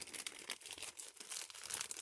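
Close, crackly crinkling and tearing of plastic packaging around a textile package, opened in quick bursts, fairly quiet with no talking.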